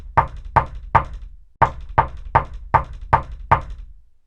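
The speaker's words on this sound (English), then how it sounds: "Very heavy sounding knocks." Heavy knocking on a door upstairs: eight loud, evenly spaced thuds in two groups, three then five, each ringing out briefly with nothing else heard.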